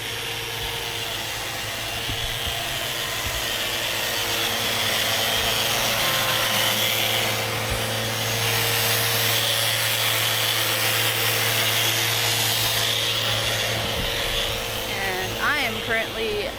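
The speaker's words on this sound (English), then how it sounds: "He's buffing the hull a little bit so we can reapply some bottom paint" A power buffer works over the hull of a sailboat out of the water, preparing it for fresh bottom paint; a steady droning whir with a faint rubbing hiss runs throughout, nearby and fairly loud, with brief scraping near the end.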